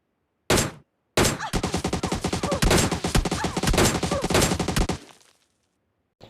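DP-28 light machine gun firing in PUBG Mobile Lite: a short burst, a brief pause, then a sustained rapid automatic stream of loud shots lasting several seconds before stopping.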